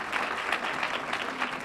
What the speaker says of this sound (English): And Hank, let's give Hank a round of applause for leading the charge on that international project.